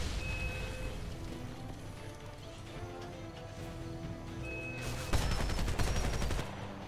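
Heavy gunfire in the PC shooter Homefront, with continuous bursts of weapon fire throughout and a louder, denser volley erupting near the end, set against a steady game soundscape.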